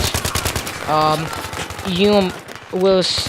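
A SCAR-H rifle fires in Battlefield 3, a rapid burst of loud close shots at the start, then a voice talks in short phrases while the shooting stops.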